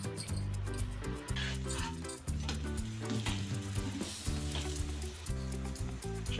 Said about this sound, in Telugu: మీడియం ఫ్లేమ్లో కాల్చుకోవాలి. చూడండి, ఇప్పుడు దీని మీద కొంచెం నెయ్యి వేసుకుందాం.